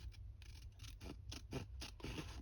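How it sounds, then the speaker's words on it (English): Scissors trim a paper envelope for a handmade CD-envelope mini journal, giving a quick run of about eight crisp, close snips in an uneven rhythm with no talking. "So I'm going to use my scissors"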